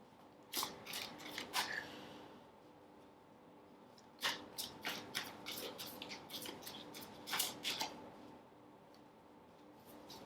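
Large tarot cards being shuffled by hand, close crisp riffling and flicking bursts in short clusters separated by quieter gaps, no speech.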